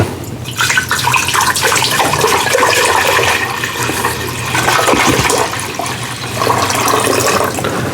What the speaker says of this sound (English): the first thing we want to do is we're going to add our peach juice to the pot